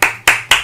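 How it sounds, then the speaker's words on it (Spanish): Three crisp hand claps land close and loud at an even, brisk pace, each with a short decaying ring, during FIFA 22 Real Madrid career mode play. "¡Un aplauso! ¡Un aplauso! Espero que estéis aplaudiendo todos,"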